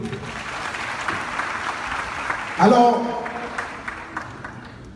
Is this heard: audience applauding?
yes